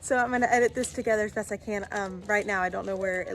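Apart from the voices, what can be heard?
No distinct noise like a dog, phone or traffic.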